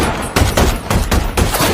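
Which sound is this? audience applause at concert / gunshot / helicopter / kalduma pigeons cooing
gunshot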